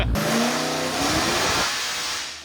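A car engine on a dyno revs hard in a loud, rising pull, then the tone drops and eases off near the end, close and with no talk.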